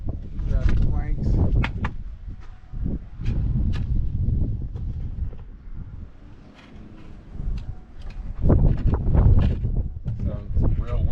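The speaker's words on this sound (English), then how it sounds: "So it's real windy." Gusty wind buffets the microphone in loud low rumbles that rise and fall, with faint rustling in between, outdoors while building a rolling gate.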